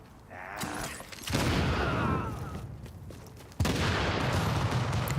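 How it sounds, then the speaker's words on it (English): Dense, continuous rumbling explosions and gunfire-like blasts from The Division 2 video game, with a sudden louder burst near the end, no voices. "Just full explosions."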